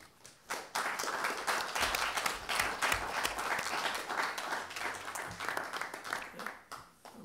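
Applause during a municipal council meeting in Andenne, a modest group of people clapping fairly quietly for several seconds before it tapers off.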